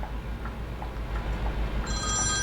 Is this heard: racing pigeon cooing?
no